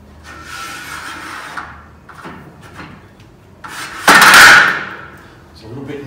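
Arcus PDMLT mortuary trolley lowered one end at a time, giving soft metallic rattles and then a loud, close clunk and scrape midway through, with quieter handling noise around it.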